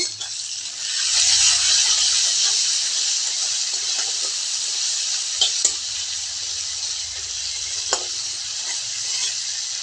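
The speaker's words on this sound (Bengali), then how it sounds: "একটু লবণ দিয়ে দিচ্ছি, তাহলে তো টমেটো আর পেঁয়াজটা একটু মজে যাবে ভালো করে।" Tomato and onion frying with salt in a pan, a steady bright sizzle that swells early and then holds, with a few light clicks of a spatula or stirring against the pan.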